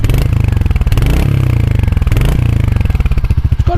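A 2023 Royal Enfield Hunter 350 single-cylinder motorcycle idles and revs close by. Its loud, steady thumping throb rises briefly twice and then settles back.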